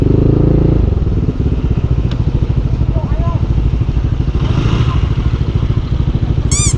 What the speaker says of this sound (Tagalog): motor to ni Boss Art, yung NMAX na malakasan